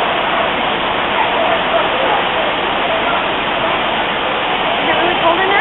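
Dunn's River Falls rushing in a steady, loud roar of falling water, dense and unbroken throughout, with no voices standing out above it.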